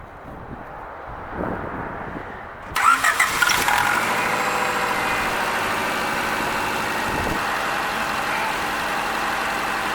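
A Honda Accord engine cranks and catches after a timing belt installation, revving briefly before settling into a steady, close idle that continues to the end.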